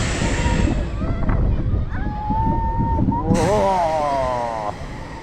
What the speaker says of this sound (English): Here we are, goes front row ride on Velocaraptor.